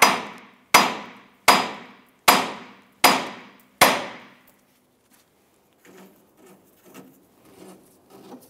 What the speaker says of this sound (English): Now we're going to use our hammer and strike the knuckle here to release that tie rod end.